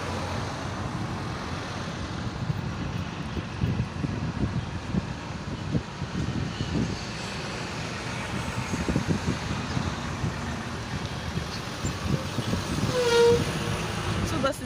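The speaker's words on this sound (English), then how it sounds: "Two buses just passed" Heavy buses rumble past on a Dakar street during a celebration, their low engine drone rising and fading amid steady road noise and occasional horn toots, with voices faintly underneath.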